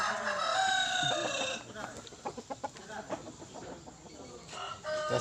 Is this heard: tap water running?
no